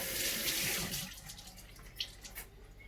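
Tap water gushes over deseeded tomatoes in a sink for about a second, then thins to a softer trickle and light splashes, close by with no talking.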